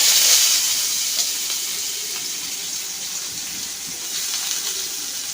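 Chopped onions hitting hot oil for a Bengali egg chaat, giving a loud, even hiss that is strongest at the start and settles into a steady sizzle with no voices.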